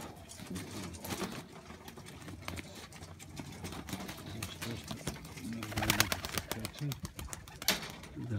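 Pigeons in a loft, one of them a hen that has laid an egg, shuffle and flap with scattered clicks and soft cooing under occasional muffled talk, mostly faint with a few louder flutters.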